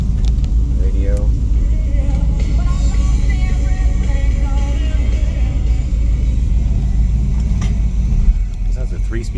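A 1964 Ford Thunderbird with a 3-speed automatic driving down a street, its engine a steady low rumble with road noise heard from inside the car, constant and fairly loud throughout.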